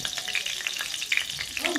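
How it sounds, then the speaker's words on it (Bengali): Dried chili and bay leaf frying in a little hot oil give a bright, close, crackling sizzle with small pops, short and steady. "শুকনো লঙ্কা চিড়ে দিয়ে দেবো, তেজপাতা চিড়ে দিয়ে দিলাম"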